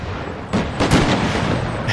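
Cannons fire in an American Revolution battle game, loud booming shots from artillery aimed into a hillside, several close concussive blasts overlapping in quick succession.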